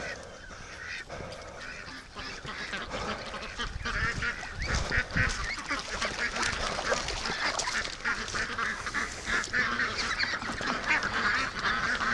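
A flock of ducks quacks and honks near a lake, a dense, continuous chorus of overlapping calls that grows busier and louder after the first few seconds, heard close with no talk.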